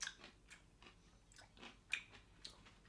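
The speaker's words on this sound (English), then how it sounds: "Tell me if you're hearing that crunch." Crunchy bites and chewing of a pickle spear, a series of sharp close crackling crunches spaced through the moment, alone with no talk.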